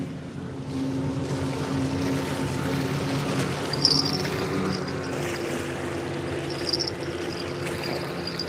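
Boats run on open water outdoors, a steady broad engine rumble mixed with wind and lapping waves, holding at a constant level throughout with no voices.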